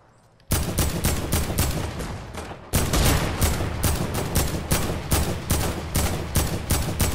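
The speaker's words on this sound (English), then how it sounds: "Shoot that over there." Rapid automatic gunfire in a video game, dense bursts of shots firing almost continuously and loudly after a brief quiet start, with a short pause midway before the shooting resumes.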